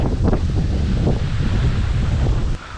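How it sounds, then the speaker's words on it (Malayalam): Strong wind on the hilltop at Kurisumala in Vagamon, about 4,000 feet up, buffets the microphone with loud, low, continuous rumbling and gusts, easing off abruptly near the end. "നല്ല കാറ്റ് കേട്ടോ, നല്ല നോയ്സ്."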